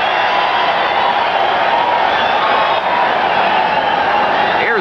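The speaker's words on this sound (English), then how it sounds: "The crowd loves it." A large arena crowd at an amateur boxing bout in Concord, California roars and cheers continuously, loud and dense, with a faint voice under the din.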